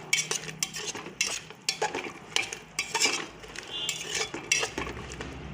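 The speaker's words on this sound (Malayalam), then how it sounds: "ഇനി ഇതിലേക്ക് കട്ട് ചെയ്ത് വെച്ചിരിക്കുന്ന വഴുതനങ്ങ ചേർത്ത് കൊടുക്കാം. എന്നിട്ട് ഇത് നല്ലതുപോലെ മിക്സ് ചെയ്തെടുക്കാം." A metal spoon stirs cut eggplant in a pan, with repeated close scraping clinks against the pan in an irregular rhythm and faint frying underneath.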